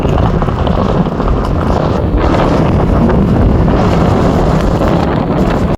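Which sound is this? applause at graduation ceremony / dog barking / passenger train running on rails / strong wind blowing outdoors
strong wind blowing outdoors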